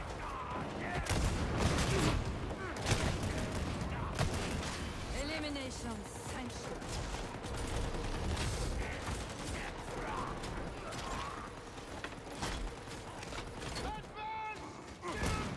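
Gunfire in the Warhammer 40,000: Darktide video game, with dense rapid bursts and mechanical clanks repeating throughout, loud and busy, while voices talk over the shooting.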